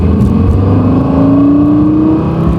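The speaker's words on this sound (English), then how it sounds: "Lots of great engine noise inside the car." Loud, deep engine drone heard from inside the cabin of a Lexus LFA, with a rising whine as the revs climb smoothly and steadily.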